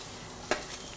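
Garlic hits hot oil in a pan with a sudden sharp sizzle burst, then a steady soft frying hiss continues, close and alone without talk.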